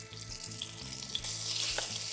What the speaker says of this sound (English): you're gonna pour your chicken in